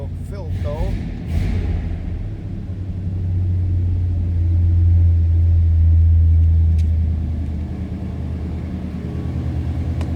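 A 1968 Ford Galaxie 500 hardtop with the 390 V8 runs in a low, steady rumble that swells slightly midway, heard close by after a few short knocks and bumps at the start.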